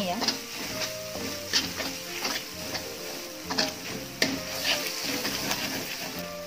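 Spring onion and spice paste stir-fried in a pan for beef in spiced sauce, an even close sizzle with repeated clicks and scrapes of the spatula, under a voice speaking.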